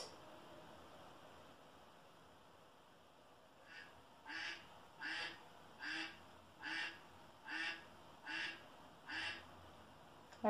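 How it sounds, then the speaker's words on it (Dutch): A duck quacks in a steady series of about eight evenly spaced calls, clear and fairly close, rising out of a faint hiss after a few seconds of quiet, as in an animal-sound guessing game for children. "De eend."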